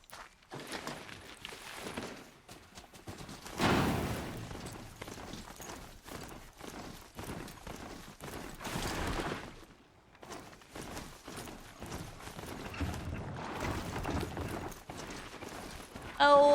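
Hoofbeats of a robotic horse-like machine mount being ridden in Horizon, steady repeated clip-clop footfalls at a trotting rhythm throughout, moderately close, with occasional louder whooshes and bursts of game noise mixed in.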